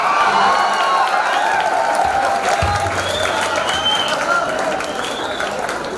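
A live audience at a Hindi comedy poetry show bursts into sustained, dense applause mixed with crowd noise, steady and full throughout before easing slightly near the end.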